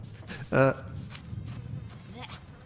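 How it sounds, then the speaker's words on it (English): Bugs buzz in the video game Lone Pine: a soft, thin insect drone runs under low background sound, with a brief louder tonal burst near the start and a fainter one later. "Bugs."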